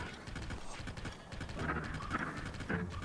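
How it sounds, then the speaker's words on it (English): Skeletal bone horse from the Zelda: Tears of the Kingdom game, its hooves clip-clopping in a steady rattling rhythm with bony clacks, moderately loud and close, with no talk over it. "I love the sound of the bones of the bone horse"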